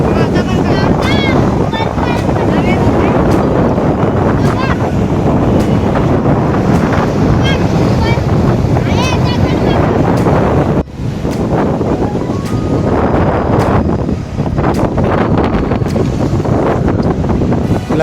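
Sea waves washing on Kunkeshwar beach on the Konkan coast, a broad rushing surf heavily buffeted by wind on the microphone, with indistinct voices faintly underneath.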